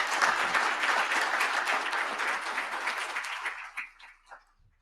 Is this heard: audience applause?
yes